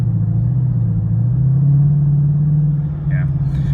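A modified Dodge Charger R/T cruises at around 40, its engine a loud, steady low drone heard from inside the car, rising slightly in pitch midway through.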